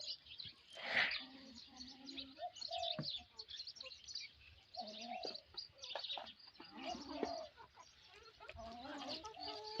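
Laying hens at a feeding spot, pecking at chopped banana stem mixed with rice bran, cluck and chirp softly and intermittently, with faint low pecking sounds in a quiet rural setting.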